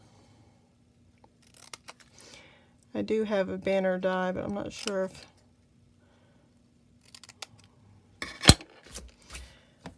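A person speaks briefly, then quiet snips and clicks of scissors cutting follow, sharp and close but soft.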